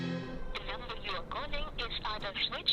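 A phone rings unanswered in a dubbed Hindi action film, its electronic ringtone repeating in short bursts over a few seconds at moderate, slightly distant volume.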